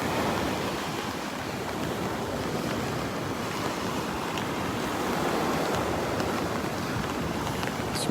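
Surf rolls and breaks along a Gulf beach at Delnor-Wiggins, a loud unbroken wash of waves mixed with gusty wind buffeting the microphone throughout.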